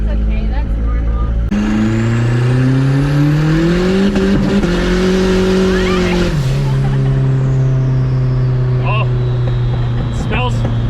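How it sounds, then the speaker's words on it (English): A turbocharged Nissan Hardbody D21 pickup engine with an exhaust leak and 222,000 miles revs up loudly and steadily, its pitch climbing and falling, then settles to a rough idle with a few faint chirps near the end. "Exhaust leak, it's fine."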